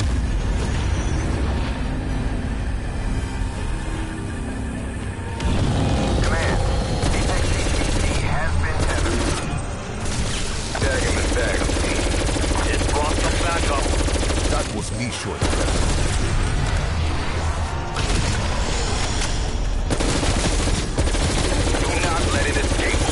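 A zombies-mode air strike in Call of Duty Cold War unloads heavy sustained gunfire with booming impacts. The barrage is loud and continuous for about twenty seconds and is mixed with game radio voices.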